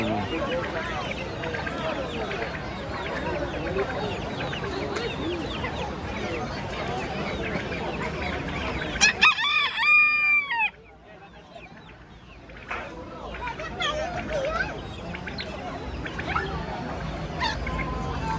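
Chickens cluck and chatter throughout at a bird market in Kokand, with a sharp honking call midway before a brief quiet spell, then more clucking and scattered voices.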